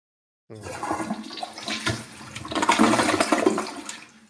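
A toilet flushes loudly and close, a rushing swirl of water that rises to a peak midway and then drains steadily for several seconds, with no voices.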